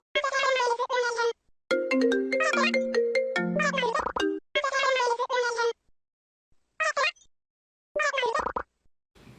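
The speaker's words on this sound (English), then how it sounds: "Why? You have a phone?" A phone ringtone plays a short melodic run of electronic notes between bursts of talk by a child-like voice, clear and close in a quiet room.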